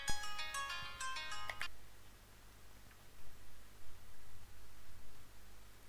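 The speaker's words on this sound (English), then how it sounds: "Sorry, my phone's ringing." A mobile phone ringtone chimes in a quick melodic pattern for under two seconds and then cuts off, leaving faint room hiss and rustling.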